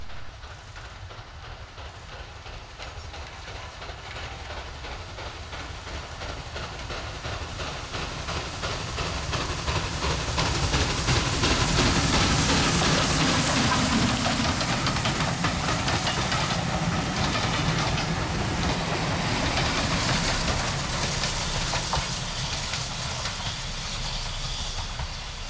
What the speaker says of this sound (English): the visiting N2 tank 1744, banked by the Ginty, is seen heading northwards to Somerset and Ramsbottom